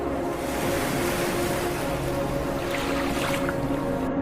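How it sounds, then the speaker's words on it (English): Ocean waves washing over black stones on a beach, a continuous surging wash with faint clicking and rattling of rock as the water pulls back. "the way waves clicked through the rocks like wet bones tapping together"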